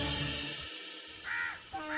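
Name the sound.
crows cawing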